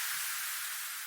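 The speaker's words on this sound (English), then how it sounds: "I use a simple downlifter" Steady white noise downlifter wash in an electronic remix drop, a faint broadband hiss that thins gradually over about a second, heard alone without voices.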